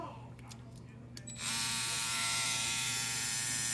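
Babyliss FX3 cordless hair clippers switch on after a few faint clicks, then give a loud, steady high-pitched buzz close up that holds to the end.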